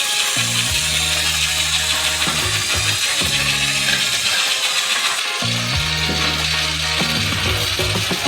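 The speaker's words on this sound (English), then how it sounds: "And mix it all with a construction mixer." A construction mixer stirring a large batch with sugar whirs and grinds in repeated surges, its motor rising and dropping in pitch over a constant clattering, scraping churn.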